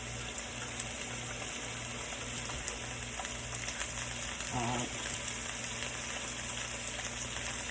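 Water running from a kitchen tap while hands are washed during preparation of teriyaki steak, chicken and shrimp, a steady faint rush and splash with a short louder gush near the middle, alone without talk.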